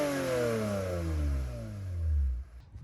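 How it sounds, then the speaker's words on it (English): A Toyota SW20 MR2 engine gets one quick rev. The pitch falls steadily as the revs drop back, then rises briefly before cutting off abruptly, loud and close. "Quick little rev for y'all."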